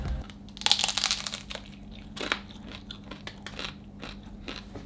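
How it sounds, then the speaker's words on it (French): Crisp crunching bites into a crispy Mexican taco, a few sharp crackling bursts close to the mic followed by softer chewing crunches, with no talking. "Donc là c'est croustillant mais c'est pas aussi abusé que l'autre."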